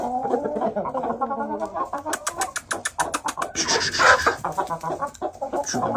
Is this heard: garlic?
no